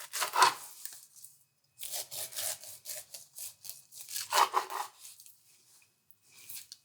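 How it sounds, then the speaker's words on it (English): A serrated knife saws through the top and bottom of a whole pineapple in a kitchen: several rough, rasping strokes in separate bursts, fairly close and clear, with short quiet gaps between cuts and no talking. "So let's get started by chopping our pineapple. I am going to use a serrated knife."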